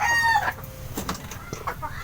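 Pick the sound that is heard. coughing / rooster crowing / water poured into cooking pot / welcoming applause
rooster crowing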